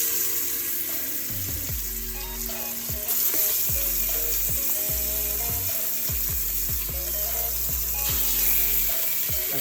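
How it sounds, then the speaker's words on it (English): Beef short ribs sautéing in a hot Instant Pot give a steady, loud sizzle and frying hiss, with scattered clicks and scrapes as the pieces go in and shift against the pot. No one speaks. "Now that this is nice and hot, we can add our beef short ribs to it."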